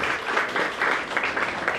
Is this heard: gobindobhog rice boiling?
no